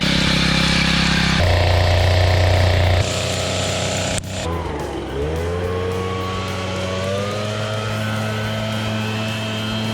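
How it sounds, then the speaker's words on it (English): Timemaster lawn mower cutting tall grass at a low height, its engine droning loudly and steadily, shifting pitch partway as the load changes, with no talk. "I'll tell you, that Timemaster can do it. It can cut low, but it doesn't like doing it."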